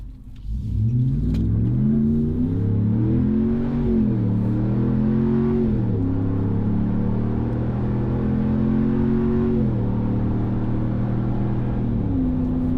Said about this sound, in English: Speaking of exhaust note, I'm gonna whip around here, let you hear it at wide open throttle.